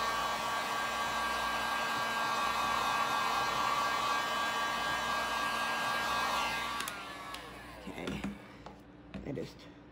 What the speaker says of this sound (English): Turned on my heat gun and flung something in this one.